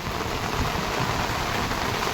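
A dense, steady hiss of heavy rain pours down without a break, during flooding in Kajardi village.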